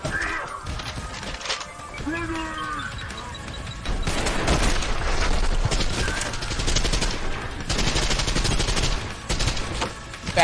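Intense combat in the shooter Trepang2: a grenade blast and rapid gunfire merge into a loud, continuous barrage of shots and crashing impacts, with bursts that keep going to the end.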